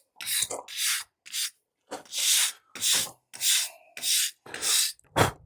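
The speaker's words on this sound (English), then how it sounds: "what I'm doing is cleaning up the top of it, getting the dirt off" Dirt being rubbed off the top of a Lot-O vibrating tumbler, outdoors in a dusty gravel-road setting, with about eight separate scrubbing strokes in an uneven rhythm, close and fairly loud.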